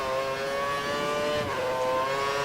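Formula One race car engine in the F1 2013 video game, a steady high-pitched whine holding a sustained tone at race pace, loud and continuous with a slight dip in pitch midway.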